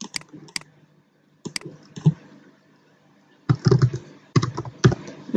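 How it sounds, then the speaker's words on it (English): Typing on a computer keyboard, heard close: a few isolated keystrokes, then a pause, then quick runs of clustered clicks. "Keep typing."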